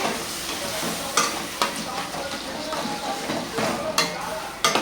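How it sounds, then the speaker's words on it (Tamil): Tamarind curry with drumstick, eggplant, dried fish, mango and broad beans frying in oil, stirred in a pan: a constant close sizzle with a few sharp scraping strokes of the ladle, no talking. "ஒரு கிண்டு விட்டுருங்க"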